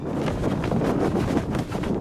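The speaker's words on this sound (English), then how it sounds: "But today is very windy, which is very, very aggressive." Strong wind buffets the microphone in loud, continuous gusts with a low roar, swelling and easing briefly but never dropping out.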